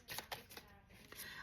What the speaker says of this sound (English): I'm going to shuffle and have Spirit bring out one card for you